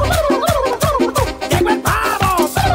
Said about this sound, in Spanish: ¡Llegó el pavo!